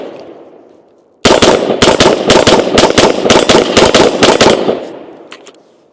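Rapid, loud string of gunshots from a light Sig M400 SDI AR-15 with an 11.5-inch barrel fired at a man-sized target 30 yards away, about a dozen close cracks over roughly four seconds, then fading ringing.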